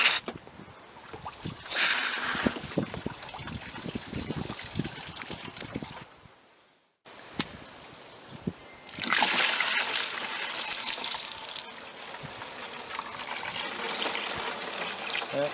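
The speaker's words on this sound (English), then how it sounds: "I'm going to run some fresh water in the system and let it run out to my drain pan" Fresh water pours through a Ford Contour radiator and splashes into a drain pan during a coolant flush, a steady close rushing and trickling that drops out briefly midway and then returns stronger.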